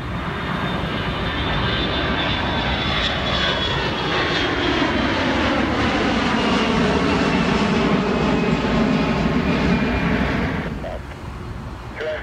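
A Delta jet airliner takes off from runway 27 right at Atlanta International Airport, its engines roaring loudly and steadily for several seconds before easing off at the end.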